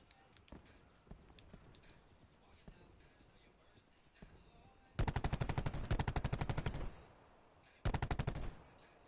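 Rapid automatic gunfire in the Call of Duty Black Ops 4 video game, two loud sustained bursts with smaller scattered shots before them, while a person talks quietly in the background.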